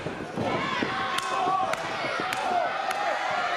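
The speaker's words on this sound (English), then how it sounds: "Rapid fire chops" Rapid chops land in a wrestling ring, a series of sharp slaps in quick succession over crowd noise and a commentator's voice.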